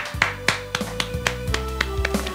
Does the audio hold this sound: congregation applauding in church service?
yes